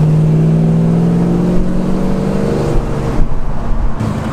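A Chevrolet Chevelle coupé, over five metres long, accelerates hard with a loud, close engine drone whose pitch climbs steadily as the car pulls.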